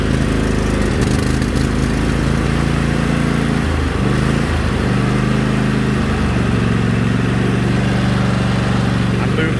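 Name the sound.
Cub Cadet riding lawn mower engine starting and running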